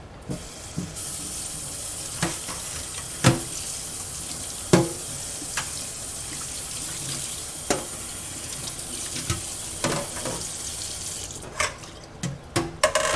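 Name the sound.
water from a tap rinsing a metal strainer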